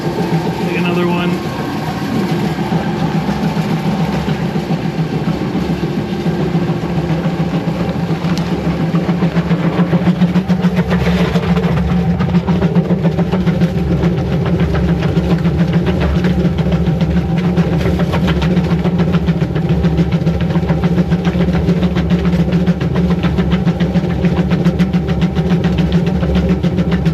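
Virtus low speed granulator shredding long fiberglass strips and plates, a loud continuous grinding machine drone with a low mechanical hum, and someone talking over it.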